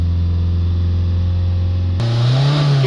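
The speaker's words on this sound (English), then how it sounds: "Give it a few revs" A Ford diesel engine with a particulate filter fault revs up briefly from a steady idle, the pitch rising for a moment, loud and close with no talking.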